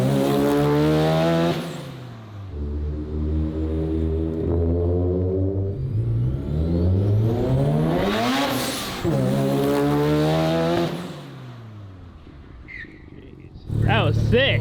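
A restored Mazda FC RX-7 street car with a rotary engine, loud and close, revving and accelerating hard in rising and falling sweeps through gear changes, with a short tire squeal near the end and people talking over it.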